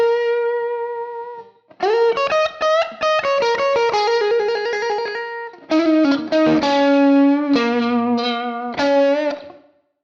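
Distorted electric guitar run through a Fractal Axe-FX preset into a pair of Marshall 1960 cabinets, playing a funky part: a sustained note, then choppy rhythmic chord stabs and bends, loud and alone.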